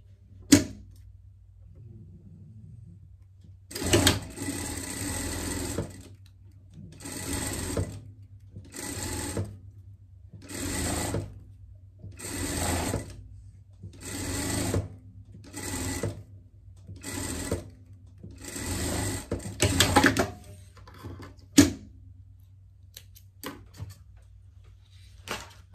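A sewing machine stitches elastic onto a pet costume in a series of about ten short, loud mechanical bursts separated by brief pauses, close by in a quiet room.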